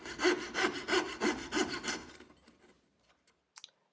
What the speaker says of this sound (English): I use the dovetail saw to cut to the lines, and then I use a coping saw to remove the waste